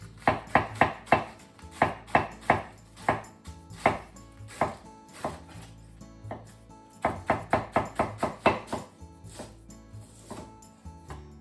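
A knife chops cabbage on a cutting board in quick bursts of sharp, close knocks, pausing between runs and then resuming, with no voices.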